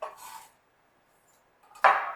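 A knife chops pistachios and sunflower seeds on a board, two short dry crunchy bursts separated by a pause, quiet and close with no talk.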